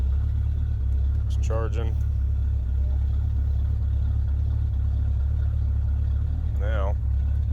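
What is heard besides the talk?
1977 Chevrolet C20 truck engine running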